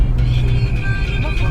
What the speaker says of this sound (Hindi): एकदम सरपट भाग रही है गाड़ी